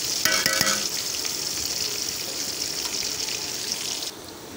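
Chopped onion and garlic hit hot oil with a bright crackling burst of frying, then settle into a steady hiss that drops off abruptly near the end.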